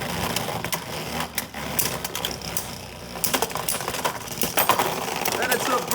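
Beyblade spinning tops whirr and clash in a plastic stadium, with rapid metallic rattles and sharp clacks that come in bursts over a continuous grinding spin, quite loud and close, while a voice talks now and then.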